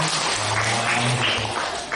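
A brief stretch of dense clapping from a crowd at a school training session, steady throughout with a low murmur underneath.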